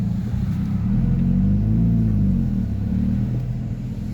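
Car driving through the town of Kalamunda, its engine a steady low rumble with a mild rise in revs, close and continuous with no talking.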